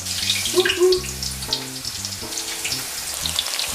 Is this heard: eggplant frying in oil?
yes